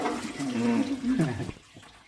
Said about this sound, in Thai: คนบ้าอะไรเทน้ำอย่างงามเลย